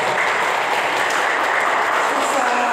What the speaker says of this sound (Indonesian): Tepuk tangan ya, teman-teman.